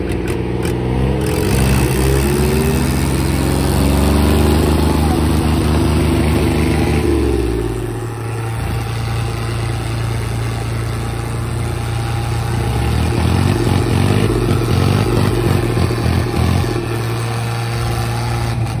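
A Solis 4515 tractor engine roars under heavy load in a tug of war, a loud, steady mid-pitched drone that eases briefly, then surges again as it revs.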